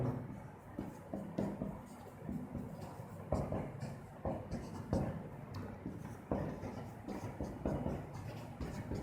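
Quiet, irregular scratching strokes of writing on a board during a classroom-style lesson, with soft taps and pauses between the strokes.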